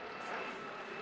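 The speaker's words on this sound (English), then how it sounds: "shut up helicopter" A steady helicopter engine drone hangs overhead above an allotment, broadband and unbroken, moderately loud for the full second with no voices.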